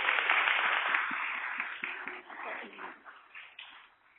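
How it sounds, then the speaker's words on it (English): Audience at a network retreat session applauding, a dense burst of clapping that stays steady for a few seconds, then thins and trails off unevenly toward the end. "Let's give Mariella a round of applause."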